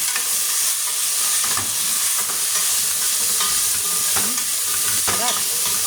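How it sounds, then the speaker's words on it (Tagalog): Squash (kalabasa) frying in a pan with browned onion and garlic, a steady broadband sizzle with stirring scrapes and clinks throughout, close and fairly loud, no talking. "Tapos lalagay ko na yung kalabasa."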